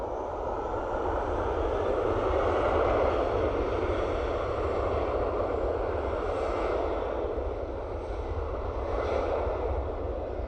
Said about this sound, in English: So this aircraft is off to Zurich, an Embraer E190 LR